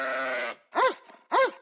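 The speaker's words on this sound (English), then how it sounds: "That's a strange sounding sheep." A sheep bleats three times nearby, a long steady wavering call followed by two short, sharp rising-and-falling bleats, clear and alone.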